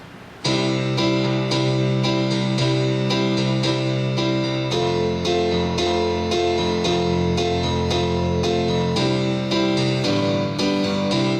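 Piano plays a steady, driving rock rhythm pattern, with repeated chords pulsing evenly in an unbroken groove. It is fairly loud, with no voices.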